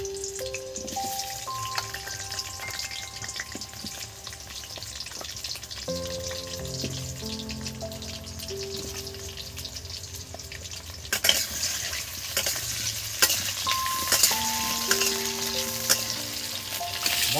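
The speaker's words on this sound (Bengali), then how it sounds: "এবার তেলের মধ্যে আমি আলুগুলো ভেজে নেব।" Potatoes fry in hot oil, giving a steady close sizzle broken by scraping and stirring, under a soft melodic music track; the sizzle grows brighter and louder partway through.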